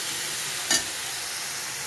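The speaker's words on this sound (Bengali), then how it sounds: "ভালো করে তেলের মধ্যে কষিয়ে নেব, যাতে কাঁচা আদা ও জিরের গন্ধটা না আসে।" Ginger and cumin sauté in hot oil with a steady, even sizzle and one short louder stir or scrape partway through.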